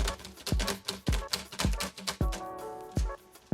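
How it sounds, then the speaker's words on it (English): Steady keyboard typing at a realistic pace at a desk with a monitor arm, with distinct key clicks and a few heavier thumps, close and fairly quiet with no voices. "And a more realistic typing speed."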